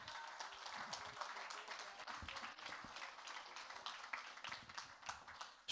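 A church congregation applauding together, a dense, steady wash of clapping hands with a few voices mixed in, sustained at an even level throughout.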